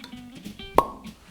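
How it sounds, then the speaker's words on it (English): A cork pops from a bottle of Chianti Classico wine, one sharp close plop after a moment of quiet kitchen handling, with a faint squeak just before the release. "it's always good to start to open the bottle of wine."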